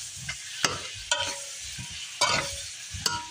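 Tomatoes are sautéed and stirred in a pan for pork kaldereta, soft sizzling under a handful of distinct scraping stirs and knocks of the spoon against the pan.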